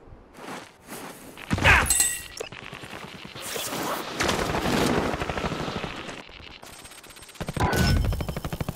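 Gunfire from a Call of Duty: Modern Warfare match comes as sharp bursts and rapid cracks spread across the scene, with some loud shots near and others further off, mixed with game ambience.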